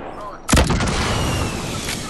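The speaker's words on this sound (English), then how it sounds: "they're just throwing grenades now, man" A sudden loud grenade blast in a Fortnite squad match bursts out after a quieter start. A long, rumbling decay with crackling debris follows, and a brief voice is faintly present.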